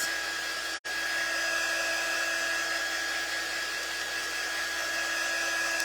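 A hair dryer blows steadily on a barn cutout, giving a loud, continuous whine-and-rush with a steady tone. It cuts out for a split second near the start, then runs on unbroken.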